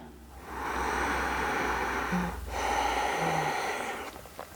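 Slow, deep breaths drawn in and let out close by, a long airy inhale followed by a steady exhale, with no talking.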